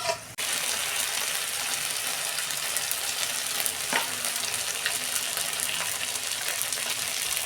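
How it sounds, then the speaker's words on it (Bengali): Ginger garlic paste sizzles and fries steadily in a hot pan for a Bengali fish dish, a dense continuous crackle with occasional stirring scrapes, close and fairly loud throughout. "আদা রসুনের পেস্ট দিচ্ছি 2 চামচ। 2 মিনিট আমি কষে নেবো"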